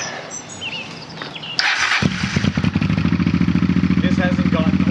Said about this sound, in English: I'm quite excited every time to start the bike so far.